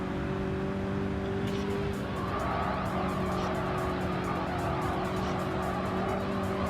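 A 1966 Ford GT40 Mark 1 engine in a racing video game, a steady loud droning roar with sustained tonal whine and tire noise, continuous and close throughout.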